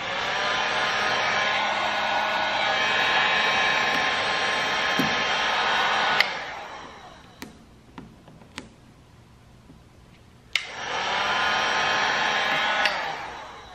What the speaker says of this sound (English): Don't go too slow with the heat gun.